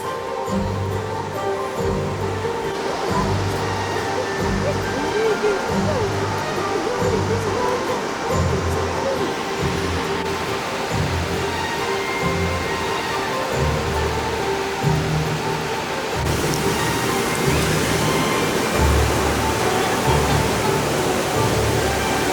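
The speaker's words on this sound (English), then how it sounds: "It's a waterfall." A steady, broad rush of Munson Falls in Oregon fills the whole stretch, constant and loud, with a faint rhythmic low thumping beneath it.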